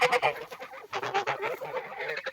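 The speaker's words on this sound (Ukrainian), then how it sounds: "Гуски." Young geese, three to four months old, honk in a loud, busy chorus of overlapping calls close by, with no talk over them.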